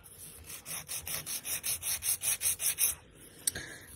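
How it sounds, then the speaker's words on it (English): Hard gel nails being filed with a nail file: about a dozen quick, even back-and-forth rasping strokes in close rhythm, then a pause and a single faint scrape, close and clear with no talk. "I'm filing."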